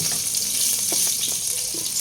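Garlic, onion and ginger sauté in a hot pan, giving a steady, close sizzling hiss with faint stirring scrapes underneath, continuous and fairly loud throughout.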